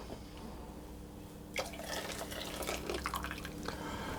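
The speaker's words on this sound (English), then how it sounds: "I'm going to pour that back into the pan" Egg custard mixture pouring back into a saucepan, a soft liquid splash and trickle that starts abruptly partway through and continues steadily at close range.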